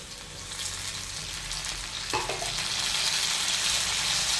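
Chopped tomato goes into a pan of browned ivy gourd and fries with a loud, steady sizzle, growing brighter and denser after a short metallic knock of the spoon partway through.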